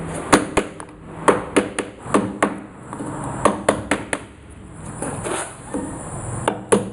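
A chisel is struck with a hammer to cut a recess in a wooden door for a knob lock, sharp woody knocks in irregular clusters, fairly close and alone.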